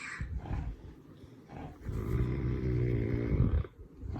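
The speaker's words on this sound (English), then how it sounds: "The dogs are snoring if you hear that." Deep, rumbling dog snores with a growly rasp, rising and falling in slow breaths, close by and fairly loud.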